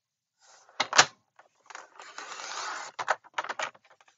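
Paper trimmed off the end of a scored recipe folio piece in a craft project: a sharp snip near the start, then a longer rasping slice and a few short clicks and taps, close and fairly loud, with no talk.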